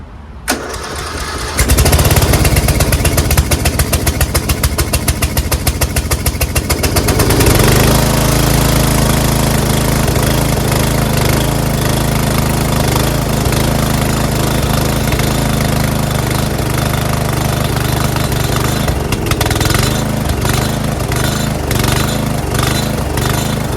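A Murray riding mower with a 12.5 HP Briggs & Stratton flathead engine and Nikki carburetor cranks over, catches and runs steadily, a loud close continuous drone with an uneven pulsing beat and no talk.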